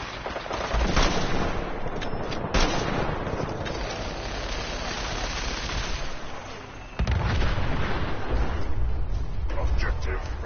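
Heavy gunfire crashes through a Fallout 4 firefight after the player switches to the big game rifle, loud repeated shots and blasts layered with dense combat noise, with a voice talking beneath the din.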